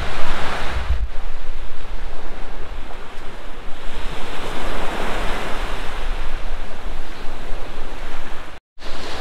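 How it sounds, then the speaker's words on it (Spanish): Sea waves break and wash continuously on the beach at Capurganá, a loud, broad roar of surf mixed with wind buffeting the microphone, with no voices. "estamos muy cerca del mar, hermoso"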